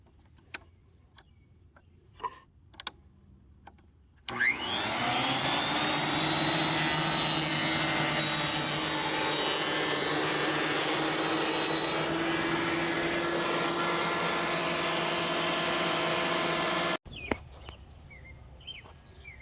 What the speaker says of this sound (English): I'm getting it down to plane using my planer. It's loud.